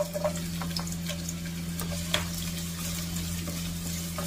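Chopped ginger fries in hot cooking oil for chicken sinabawan, a close, steady sizzle broken by small pops and light stirring clicks, with a low steady hum underneath.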